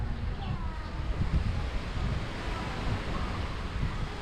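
Waves and wind on the long shoreline of Caruban beach in Rembang, a steady, loud roar of surf mixed with gusty wind buffeting the microphone throughout.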